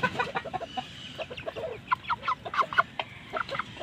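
A chick on a scale gives repeated short bright chirps and peeps, close and moderately loud, in quick irregular bursts with no talk.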